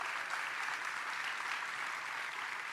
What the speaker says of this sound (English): So let's give them a round of applause, please.